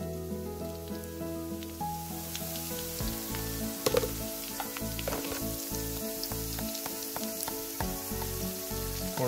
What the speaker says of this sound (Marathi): सध्या मी यामध्ये हिंग घालतोय